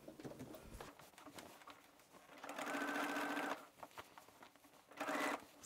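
A sewing machine understitches a seam allowance onto a dress front piece, running in two quick whirring bursts with rapid needle clatter, separated by quieter handling noises.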